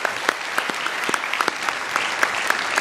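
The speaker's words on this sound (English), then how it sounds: "just another round of applause," An audience applauding in a room, dense steady clapping with a few louder individual claps standing out, no voices.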